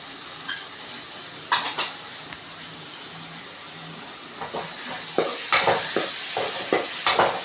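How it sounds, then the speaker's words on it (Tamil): Tomato thokku with turmeric sizzles and fries in a pan under steady stirring, a continuous hiss broken by clattering spoon scrapes that come thicker and louder toward the end. "நல்லா வதக்கிக்கோங்க"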